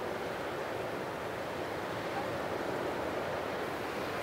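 Steady heavy rain and rushing water fill a Himalayan yak village in Nepal during a monsoon downpour, a dense, continuous wash of noise at constant loudness with no pauses.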